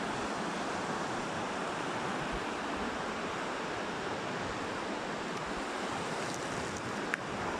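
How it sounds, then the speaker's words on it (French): The Péribonka river in spring flood roars as a dense, constant wash of rushing water, loud and unbroken from start to finish with no voices. "je vais vous montrer la rivière Péribonka qui se déchaîne au printemps"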